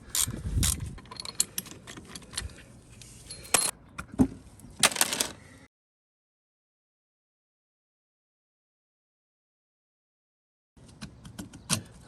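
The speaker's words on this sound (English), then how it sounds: "Using the clutch locking tool from TMS in Nottingham, and an appropriately fitting socket to get the centre nut off." A socket on a ratchet undoes the clutch centre nut of a 1978 Triumph T140 motorcycle, giving close, uneven clicking and metallic knocks, then a long silence before a few more clicks.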